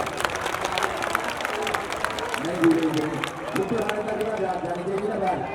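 A crowd at a village kabaddi match claps in scattered, rapid bursts under an announcer speaking continuously over a loudspeaker.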